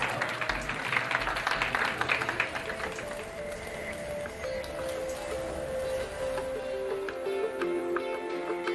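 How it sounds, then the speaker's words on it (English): Audience applause during a talk on incentives, moderately loud clapping from a crowd that gradually thins, with a faint tonal sound and scattered claps near the end. "Big round of applause."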